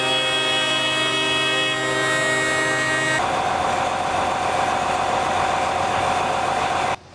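A tractor engine idles at a farmers' protest, a loud, steady, close rumble that runs throughout, with a sustained horn-like tone over it for the first few seconds.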